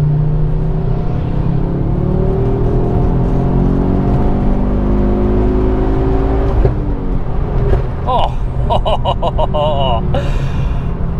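Ford Focus RS Mk2 engine droning steadily while driving, with rising and falling harmonic tones as it pulls through gears, loud and close throughout, with a brief change in pitch partway through.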